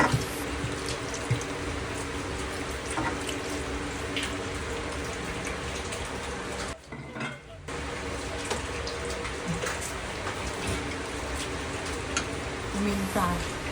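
Vinegar poured over cleaned milkfish in the kitchen, a steady running, splashing water-like flow throughout with a short break midway, a voice speaking over it at times.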